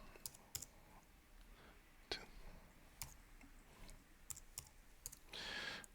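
Someone types on a computer keyboard, tapping out quick, scattered clicks in irregular bursts at close range, with faint low speech in the background.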